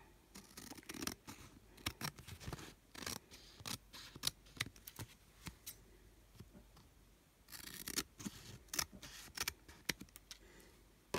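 Scissors snip and trim paper around a window envelope pocket, with repeated close, crisp cuts in irregular bursts, some quick runs of snips and brief pauses between them.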